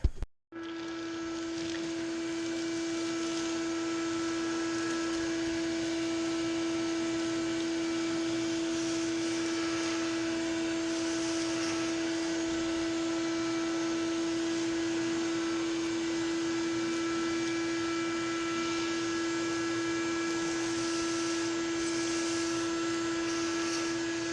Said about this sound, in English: I think I'll get some air or a little vacuum or something and vacuum this up.